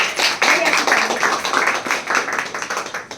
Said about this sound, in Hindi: जोरदार तालियां एक बार फिर से अपने लिए हो जाए